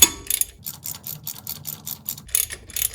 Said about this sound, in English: transition to the ratchet and socket